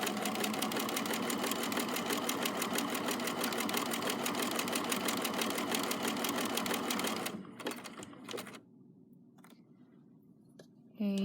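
A sewing machine stitches a buttonhole in fabric with a fast, steady mechanical rattle for about seven seconds, then stops, leaving a few soft clicks and handling noises.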